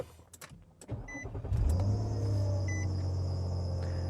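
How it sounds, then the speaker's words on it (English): A car engine cranks and catches after a few faint clicks, then settles into a steady, close idle hum with a high electronic whine. "Let's start the vehicle up."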